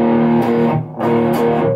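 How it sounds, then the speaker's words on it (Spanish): Electric guitar through a Boss Metal Zone distortion pedal rings out two heavily distorted, sustained chords, dense and buzzy, each held close to a second with a brief dip between them. "ahora le vamos a poner la distorsión"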